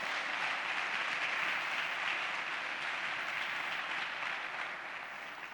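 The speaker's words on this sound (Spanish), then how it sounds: "Dele un fuerte aplauso a ese Dios poderoso." A church congregation claps together in steady, dense applause after a sermon line, sustained throughout and tapering slightly at the end.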